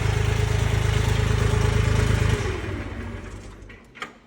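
A heavy YTO 244SX tractor engine runs loud and close in a steady throbbing idle, then settles lower and quieter, ending with a brief clunk.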